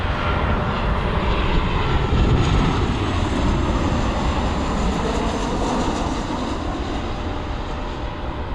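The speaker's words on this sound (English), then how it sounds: "United Airlines Flight 600. It's the Star Alliance livery inbound from Fort Myers." United Airlines airliner in Star Alliance livery flying inbound from Fort Myers toward Cleveland Hopkins, a loud, steady low engine roar that fades slightly toward the end, with no talking.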